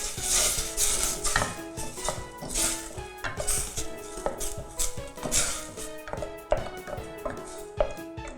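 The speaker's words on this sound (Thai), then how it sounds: "แล้วก็ใส่เครื่องแกงลงไปค่ะ ผัดไฟอ่อนๆนะคะ" Thai red curry paste being stir-fried over low heat in a pan for a crab curry over rice noodles, with repeated clinks and scrapes of a utensil against the pan and soft sizzling throughout, close and steady.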